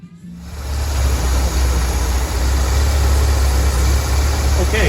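A Chevrolet Corsa engine, suspected of a bad fuel pump, starts and settles into a rough, steady idle with a deep low rumble. Someone speaks briefly over it.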